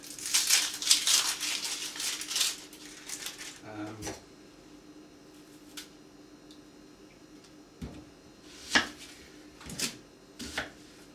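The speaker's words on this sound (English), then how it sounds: "The onions are just coarsely chopped, not finely chopped." Knife coarsely chopping peeled onions on a board for French onion soup, a burst of quick close cuts at the start, then scattered single sharper chops later over a quiet room.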